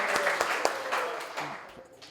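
An open mic audience claps for a spoken-word poetry performer, a dense burst of applause with a few sharp individual claps, tapering off over about two seconds with faint voices underneath.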